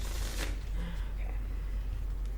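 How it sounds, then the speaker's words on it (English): Oracle cards being shuffled by hand, a soft close riffling and flicking over about two seconds, faint with a low background hum. "Just one more good shuffle."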